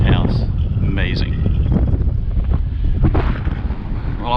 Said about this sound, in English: I apologize for it being windy